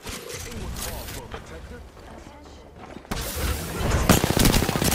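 Bursts of gunfire in a video game, sharp cracks over a busy backdrop of rumble and movement, with a sustained loud stretch of shooting in the second half while players talk over it.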